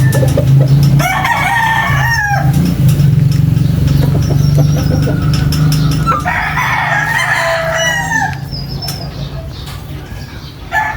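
A rooster crows loudly and close by, twice, over a dense layer of clucking chickens and other farmyard noise, with no talking.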